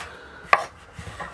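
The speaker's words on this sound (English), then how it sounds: "chopping these up like that" One sharp knife chop on a board while cooking Chinese egg foo young aboard a boat, close and crisp, followed by a few softer taps and quiet kitchen rustle.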